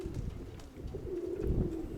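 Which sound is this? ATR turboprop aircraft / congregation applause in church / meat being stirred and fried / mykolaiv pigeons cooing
mykolaiv pigeons cooing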